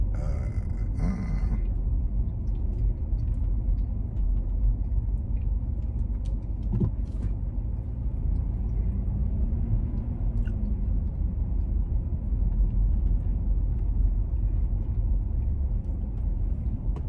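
A car drives slowly through a residential area, a steady low engine and road rumble heard from inside, continuous and even, with a brief clatter near the start and faint knocks along the way.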